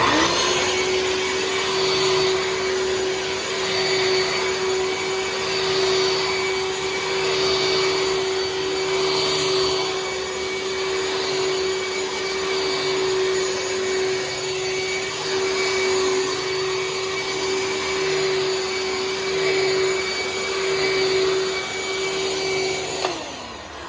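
A Dirt Devil vacuum cleaner runs steadily on carpet, a loud, continuous motor whine with a constant pitch that holds for the whole stretch before cutting off at the very end, with no talking.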